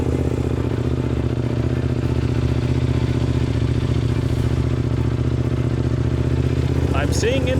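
A race vehicle's engine running steadily and loud throughout, a dense continuous mechanical drone with clatter, and a brief higher tone near the end.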